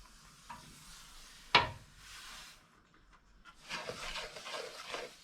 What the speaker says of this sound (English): I just keep stirring that now so that's dissolved.